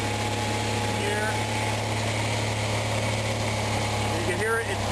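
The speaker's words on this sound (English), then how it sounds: "You can hear it, it's backfiring occasionally, but it's not doing it as badly as it was before" An Onan RV generator engine, fitted with a larger exhaust after a cracked header repair, runs steadily at close range with a constant droning hum; occasional pops are hard to pick out within the continuous engine noise.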